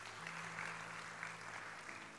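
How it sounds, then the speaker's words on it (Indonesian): Church congregation clapping during an evangelical sermon, a faint, steady wash of applause with a low hum underneath, lasting a couple of seconds. "Yang percaya, beri tepuk tangan yang meriah buat Tuhan."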